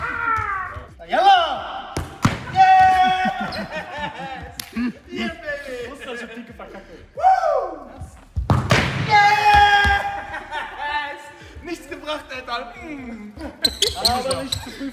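A basketball bouncing repeatedly during a shooting challenge, with sharp thuds on a hard court under lively, excited talking and shouting among several people.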